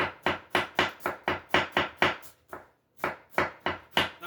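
A knife chops cabbage into very fine slices for coleslaw, each stroke landing as a crisp, close knock on a cutting board in a fast, steady rhythm, with one short pause partway through.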